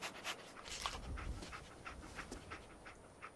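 Dogmeat, the companion dog in Fallout 4, pants in quick, soft, rhythmic breaths at close range for a few seconds, with no talking over it.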